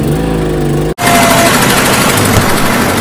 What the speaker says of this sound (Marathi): जनरेटर चेक करतोय.